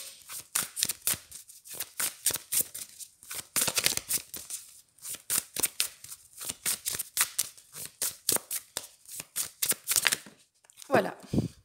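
A deck of oracle cards is shuffled up close in quick, rhythmic bursts of riffling and snapping that repeat steadily for over ten seconds.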